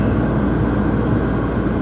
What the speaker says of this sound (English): C-17 flying up there.